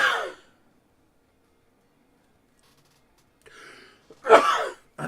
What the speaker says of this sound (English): And I'm sneezing again.